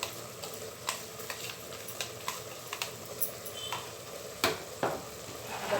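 Garlic fries in ghee in a pan, giving a quiet, steady sizzle broken by scattered sharp ticks and pops as it is stirred.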